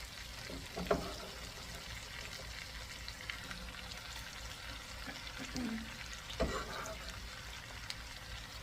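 Carrots and potatoes added to a curry pot sizzle steadily under a soft, continuous frying hiss, with occasional clatters and stirring knocks, and a person talks over it.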